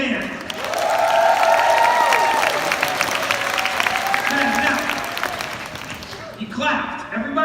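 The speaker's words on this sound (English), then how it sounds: "Everybody, give them a big hand." A conference audience claps and cheers together in a sustained burst of applause, loud and dense at first, then thinning out as someone speaks over the last of it.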